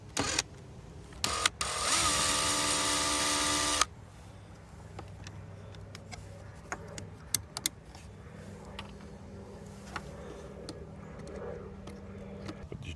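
Unscrewing screws from a hot tub panel begins with a loud steady whine of a powered screwdriver for about two seconds, followed by quieter scattered clicks, taps and handling noises close by.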